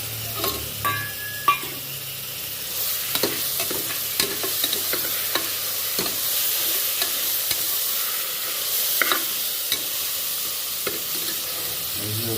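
Masala with chopped tomato, fenugreek and garam masala sizzles in a pan while a spoon stirs and scrapes it, giving a string of clicks and knocks over a steady frying hiss.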